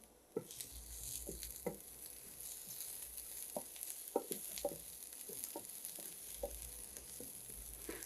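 Chopped green chilies sizzle in hot oil, a soft continuous frying crackle with scattered pops and occasional stirring scrapes, fairly quiet and close.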